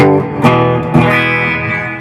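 An electric guitar plays through a Blackstar Stage HT 100 amplifier with a little reverb at loud volume. Two sharply picked chords ring out one after another, each sustaining and decaying into a reverberant tail.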